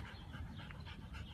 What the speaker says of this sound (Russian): Это охранная собака